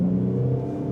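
Jeep Cherokee KJ with a 3.7 engine revving as it pulls away, a steady low rumbling growl that holds throughout, close and fairly loud with no talk.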